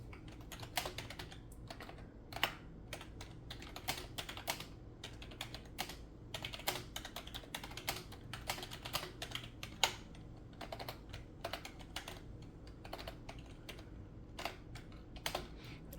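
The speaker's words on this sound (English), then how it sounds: "I have a secondary keyboard down here where you can't see it, so that's why I'm able to type" Rapid, uneven typing on a secondary computer keyboard in a home art studio, crisp key clacks running steadily throughout with brief bursts and pauses, close and clear, no talking.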